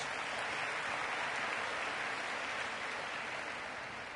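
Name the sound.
conference audience applause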